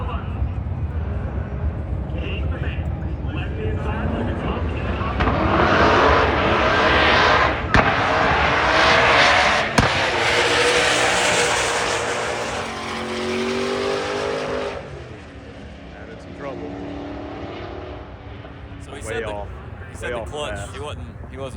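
A 2JZ-powered Honda Civic drag race car builds to a loud, roaring launch and pulls away at a drag strip, the engine swelling then fading into distance beneath crowd noise and ongoing commentary.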